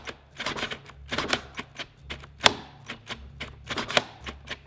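A cordless drill's trigger is clicked over and over after its thermal cutoff trips during a cheap versus expensive drill test. Sharp, irregular clicks come close and clear, with brief low motor hums between them.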